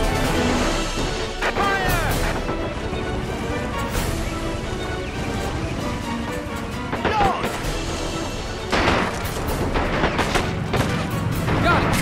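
Gunfire and artillery in Men of War Assault Squad 2, a Hürtgen battle of USA against Germany, with dense rattling shots, sharp crashes and heavy booms layered continuously, loud and chaotic.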